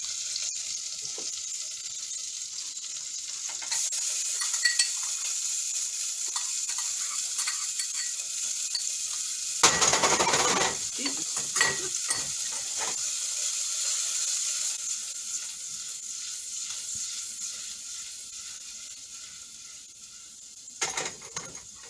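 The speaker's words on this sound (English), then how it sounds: "And this I'm gonna saute with onions" Freshly chopped onions sauté in a pan with a soft continuous hiss, broken by a few bursts of stirring and scraping partway through and again near the end, close with no talking.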